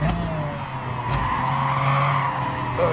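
Race car tires squealing and skidding through a corner in Gran Turismo Sport during an online manufacturer race, a sustained screech over a droning engine note that rises and shifts.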